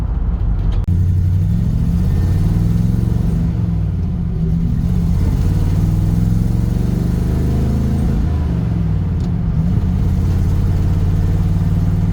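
A Chevrolet Suburban pulling up a road after a stop sign, its engine a steady, loud, close low rumble inside the cabin that rises slightly as it accelerates, with no talking.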